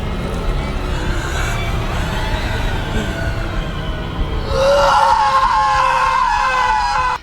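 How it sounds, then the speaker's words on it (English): A man screams in a scene from the 2019 film Doom: Annihilation, a loud sustained cry that rises and wavers over a steady rumbling background. "He just starts screaming and he starts to change."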